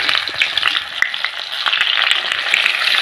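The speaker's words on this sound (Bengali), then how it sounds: "টমেটোটা একটু লাল করে ভেজে নেব" Chopped tomato fries in oil with dried red chilli, whole garam masala, bay leaf and cumin, making a loud, dense sizzle that crackles steadily throughout, with light stirring taps scattered through it.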